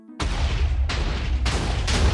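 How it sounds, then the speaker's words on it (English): Cannon blasts in Minecraft: three or four loud, booming explosions in quick succession, each a sharp burst followed by a rumbling tail, close and alone with no talk. "And here goes the cannon."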